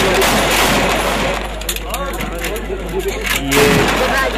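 Recorded gunfire at a Pakistani wedding, loud sharp shots in bursts and a quick run, over a noisy crowd with voices in the background.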